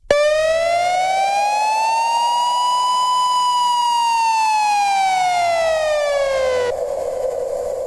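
A loud, steady synthesized siren tone from the Krishna Synth's Paris Sirens preset sweeps slowly up and then back down in pitch for several seconds, rich in harmonics, ending abruptly.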